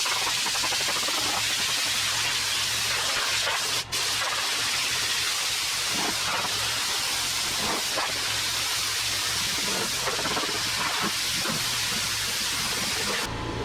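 Snap-on perforated air nozzle blasts compressed air while detailing a car interior, a loud continuous hiss that runs almost unbroken, with a brief dip partway through.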